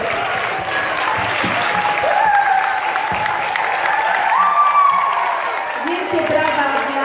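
At a Christmas carol concert, the audience applauds the artistic ensemble with steady clapping, while light cheering and a few voices ride over it.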